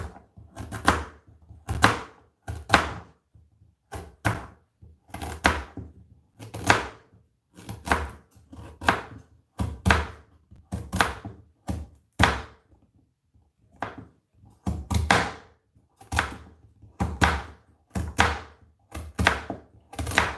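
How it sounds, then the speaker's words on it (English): A knife slices carrots into circular rounds on a board. Close, crisp chops come in quick bursts with short pauses between runs, with no talk. "you can just cut them like that. Slice them in circular slices."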